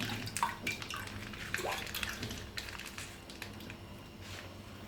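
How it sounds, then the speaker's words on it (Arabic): Half a litre of milk is poured into a bowl while a cream layer is made for a three-layer orange and banana cake. The pour gives a steady, close splashing and trickling stream with a few clinks. "هنا غادي ندير نص لتر ديال الحليب"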